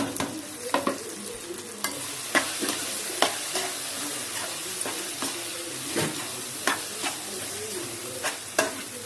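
Boiled egg pieces being mixed into masala on a hot tawa for Madurai-style muttai mass, with a continuous sizzle punctuated by repeated sharp scrapes and clacks of a metal spatula at an uneven rhythm.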